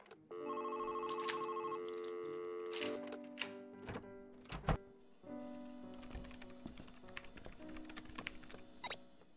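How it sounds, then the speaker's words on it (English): A telephone rings in the video game Monaco with a bright electronic ring, followed by sharp clicking and tapping game effects. The sounds are quiet and come in intermittent bursts. "Yeah, you answer that phone."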